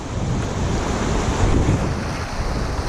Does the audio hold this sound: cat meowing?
no